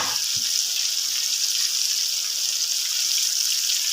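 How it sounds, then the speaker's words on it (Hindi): Boiled eggs fry in cooking oil in a wok (kadhai), giving a steady, close, hissing sizzle that holds at an even level throughout, with no talk over it. "अब मैं इनको अच्छी तरह फ्राई कर लूँगा।"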